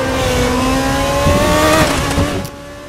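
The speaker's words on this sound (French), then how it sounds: "augmenter un petit peu le son du moteur pour vous laisser en profiter" A race car engine in the sim racing game RaceRoom holds a loud, steady high-revving drone with shifting harmonic tones, then pitches and fades away near the end, with no one talking.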